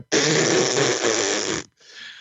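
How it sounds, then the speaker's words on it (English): A big, loud whoopee cushion fart blasts out for over a second and a half as a wrestling clown hits it, followed by a quieter trailing sputter. "And when he hits it, there's a big fart"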